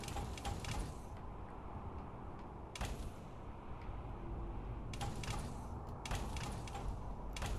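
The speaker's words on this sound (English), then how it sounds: "Oh, this armor with the clickety-clack." Train-themed power armor from a Fallout 4 mod clanks and clatters as it moves, a loud, dense mechanical rumble with sharp metallic clacks bursting out repeatedly over a steady churning background.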